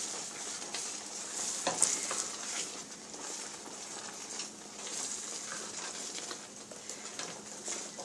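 Food cooks down in a pan with a low, steady sizzle and soft stirring scrapes, quiet and continuous with no voices.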